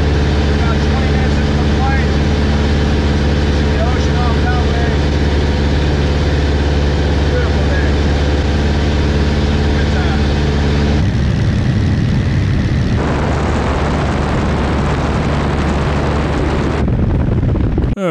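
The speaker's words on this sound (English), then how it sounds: "we're going to achieve that by watching this fake plane crash video" A small plane's engine drones loud and steady throughout, deep and continuous, then shifts in tone near the end as the engine sound changes and cuts briefly.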